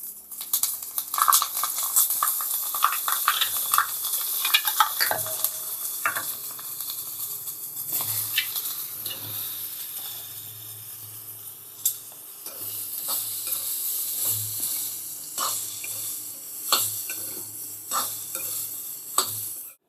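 A tempering of asafoetida, red chilli powder and broken dried red chillies sizzles in hot oil while a spoon stirs and scrapes the pan, giving clear frying crackle punctuated by repeated metallic stirring knocks.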